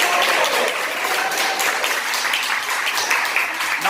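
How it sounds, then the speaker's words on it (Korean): Children clap together as a group, a dense, steady burst of applause that holds for about four seconds with no voices over it. "박수."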